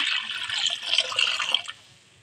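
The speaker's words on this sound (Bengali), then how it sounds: "জল দিয়ে দিচ্ছি সিদ্ধ করার জন্য।" Water poured onto a washed banana flower in a pot for boiling, a close, bright splashing pour lasting under two seconds before it stops.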